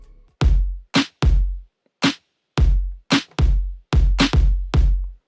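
Layered lo-fi snares and claps in a pop beat hit alone as a sequence of about ten sharp, punchy strikes in an uneven groove, each with a short bright tail, loud and close.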